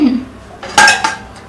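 Dishes, pots and pans clatter in a home kitchen, several clinks and knocks of plates and cutlery, two louder bursts close by over a faint background.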